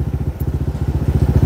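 A close Honda Stylo 160 scooter exhaust putters at idle, a steady rapid pulsing thump with no voices.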